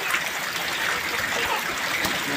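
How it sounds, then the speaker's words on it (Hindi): Heavy rain driven by wind pours down in a continuous, loud, hissing wash of water with splashing texture, steady throughout and close by. "बहुत तेज बारिश हो रही है।"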